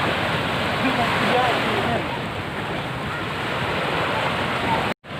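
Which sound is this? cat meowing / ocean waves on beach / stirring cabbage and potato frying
ocean waves on beach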